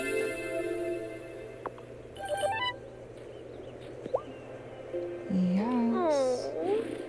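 A cat meows a few times in the life-sim video game Wylde Flowers, with rising and falling calls near the end over steady game music and ambience.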